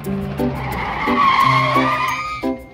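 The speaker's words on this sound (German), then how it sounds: "Schau, da ist ein Auto." Cartoon car skidding in an animated children's program, a sustained squealing tone sliding across the whole stretch, loud and close, set against bright, simple music notes.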